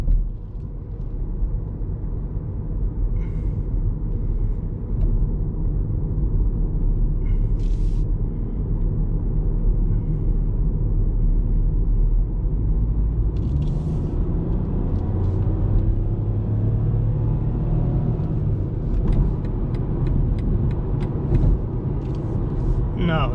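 A 2020 BMW 118i driving on the road gives a steady low engine and tyre rumble heard from inside the cabin, with someone talking over it and brief clicks now and then.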